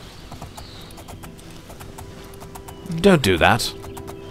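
Horse hooves clip-clop in the video game Oblivion, a quick burst of several loud hoofbeats near the end, while a person talks over faint background game ambience.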